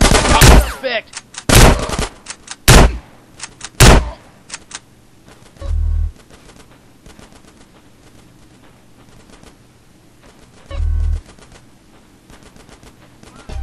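Gunfire in the video game GTA: San Andreas: several loud bursts of automatic fire and single shots in the first four seconds, then two heavier thumping blasts later, with game background noise between.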